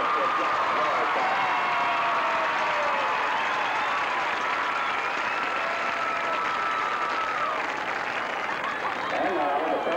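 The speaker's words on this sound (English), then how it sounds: "Let's give this tremendous senior class a great round of applause for Jack Morrison." Crowd in the stands at a 1982 high school football game applauding the senior class, a steady, dense wash of clapping and cheering with murmuring voices mixed in, sustained loudly throughout.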